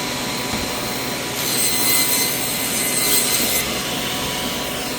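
A wooden piece for a kitchen remodel is trimmed with a steady, close rasping cut that stays loud throughout.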